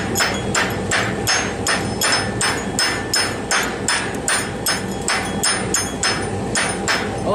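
A hand hammer chips slag off big 7024 stick welds: a quick, steady run of sharp metallic taps, roughly two or three each second, close and loud throughout with no talking.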